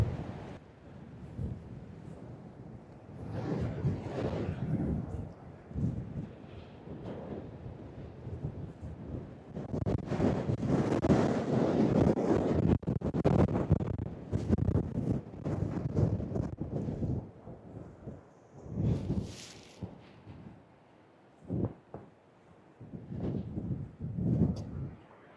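Cold wind on the coast of Pembrokeshire at Whitesands Bay and St Davids Head, strong gusts buffeting the microphone in rising and falling rumbling bursts, loud and close with brief lulls between.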